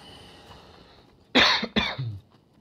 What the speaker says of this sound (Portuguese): Acabando com a minha tosse.